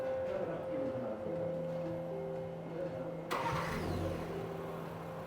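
A Range Rover engine cranks and catches on remote start, a sudden burst at about three seconds that settles into a steady idle, heard from nearby over a constant low hum.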